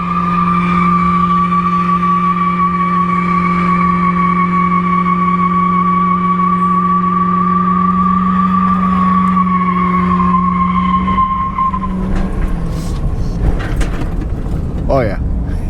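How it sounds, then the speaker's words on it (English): A Crown Victoria Police Interceptor doing a burnout: a loud, steady engine drone held at high revs for several seconds, then shifting near the end into rougher tire scrubbing and squealing, close to the microphone. "will this car do a burnout?"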